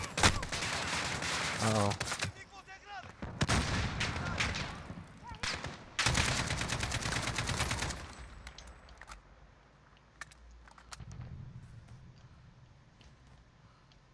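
Heavy, hard-kicking gunfire in the Call of Duty: Modern Warfare campaign comes in loud sustained bursts, separated by short pauses, then fades to scattered distant shots and ambient battle noise; a voice briefly speaks.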